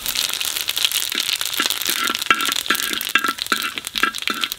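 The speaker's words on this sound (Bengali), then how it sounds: "জিরাটা একটু বেশি ভাজবো।" Cumin seeds frying for jeera rice in a home kitchen pan, a dense steady sizzle and crackle with scattered sharp pops and crinkling bursts throughout, close and fairly loud with no talk.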